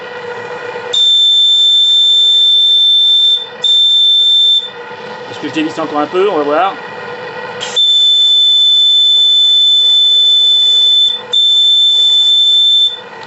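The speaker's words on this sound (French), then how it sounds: "le sifflet, à défaut d'être grave, est très efficace" A piercing, high steam bell whistle on a small live-steam model blows in long sustained blasts with short gaps, while someone speaks briefly during one pause.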